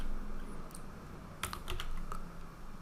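Typing on a computer keyboard at a desk: a short quick run of close key clicks after a quiet start, followed by a few scattered taps, over faint room hum and without talk.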